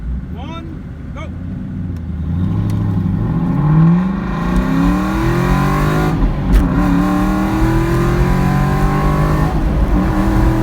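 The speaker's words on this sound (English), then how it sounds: "even in that crazy wide open throttle pull, I only hit 90 miles an hour." An Aston Martin V8 Vantage pulls at wide open throttle down an airstrip runway, its loud, close V8 note climbing steadily in pitch through the gears over about ten seconds.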